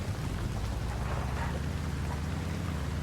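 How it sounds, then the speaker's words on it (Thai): Steady rain falls in the survival video game Once Human, a continuous soft patter and hiss with no break and no voices. "ก็ฝนตกหน่อยนะครับคลิปนี้"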